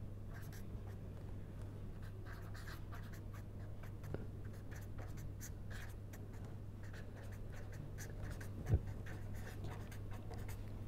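A pen writing an equation by hand on paper, continuous faint scratching strokes with a small tap near the end, close and quiet over a steady low hum.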